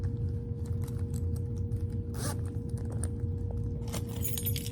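Keys on a Coach keychain jangle in light, scattered metallic clinks over a steady low hum, close and fairly quiet, with a brighter rattle near the end.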